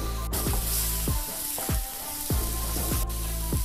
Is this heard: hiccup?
no